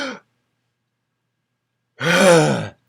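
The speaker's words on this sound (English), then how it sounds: "So take a breath, everybody." A single deep breath, a long audible sigh-like exhale after a brief opening breath sound, close and clear against silence.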